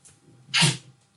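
A single sharp sneeze bursts out, loud and close, with a brief breathy intake and faint room sounds around it.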